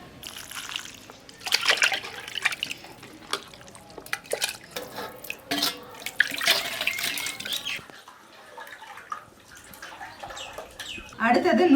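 Small cut chicken pieces for chicken 65 washed by hand in water, with splashing, trickling and dripping in uneven bursts, a quieter pause, then a louder pour near the end.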